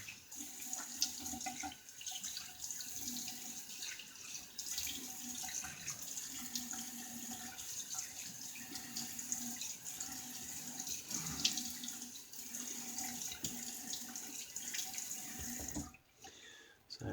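Tap water running steadily into a sink to rinse a Mark Cross shaving razor, a continuous close splashing stream that stops near the end.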